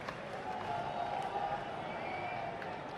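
Crowd at an England v India cricket match in Nottingham applauding Virat Kohli's century, a steady wash of clapping and cheering from a large stadium audience, fairly distant and continuous throughout.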